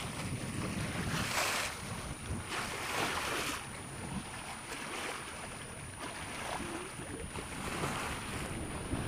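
Wind rushing and buffeting over open water off Sardinia, a light south wind, with waves washing against a moving sailboat; steady and fairly soft, gusting in slow surges.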